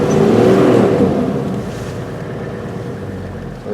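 A four-wheel drive vehicle labours along a rough road, its engine loud and close with a steady rumbling drone that eases slightly toward the end.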